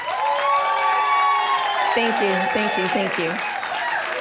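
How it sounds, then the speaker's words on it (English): A television talk show studio audience gives a guest a round of applause. The sustained clapping stays loud and close, and a voice speaks briefly over it partway through. "I'd like for the audience to give you a round of applause"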